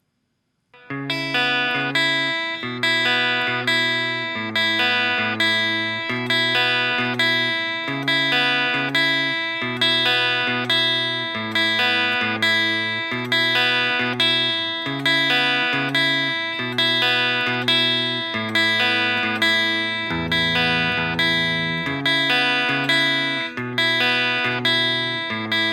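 Guitar plays a song's chord progression, steady strummed chords repeating in a regular rhythm for about 25 seconds, close and clear with no talking.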